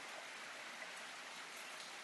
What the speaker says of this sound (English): It's raining very heavily here.